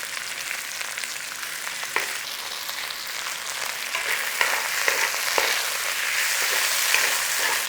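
Chicken pieces fry in a hot pan for a stroganoff, turned over to brown, giving a steady, dense sizzle with faint crackles that swell slightly louder toward the end, with no voices.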